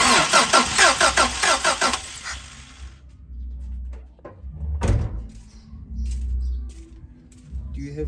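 A Venture car engine on a budget build cranks over in a rapid, loud starter churn for about two seconds without catching, followed by quieter clanks and low rumbling, with faint voices nearby.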